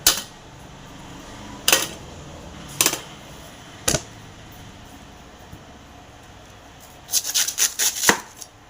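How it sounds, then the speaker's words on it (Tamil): A knife chopping valli kizhangu tuber into pieces on a board, isolated sharp cuts at irregular intervals, then a quick burst of several rapid chops near the end, close and clear. "சைஸ் உங்களுக்கு எந்த அளவு வேணுமோ அந்த அளவு ஒரு பீஸாக கட் பண்ணிங்க"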